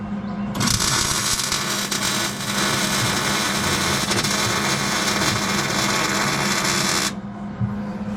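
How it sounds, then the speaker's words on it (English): An electric welder lays beads to fix nuts onto steel winch bed mount brackets, a loud steady crackling buzz that starts abruptly, runs about six and a half seconds with a brief dip midway, then stops. "We're going to weld these nuts up too."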